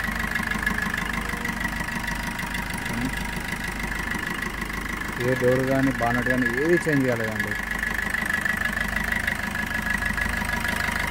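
A 2017 Maruti Suzuki Vitara Brezza VDi(O) diesel engine idles steadily with the bonnet open, a constant low mechanical hum running throughout while someone talks over it near the middle.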